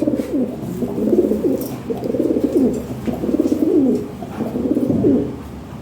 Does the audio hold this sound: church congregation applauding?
no